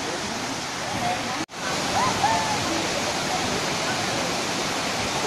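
The Banyumala twin waterfall pours as a steady, dense roar that fills the scene from near by, with brief faint voices over it.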